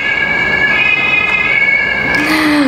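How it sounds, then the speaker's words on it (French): Steady two-tone siren wail, loud and continuous, from an ambulance passing by, with no one speaking. "L'ambulance elle passe"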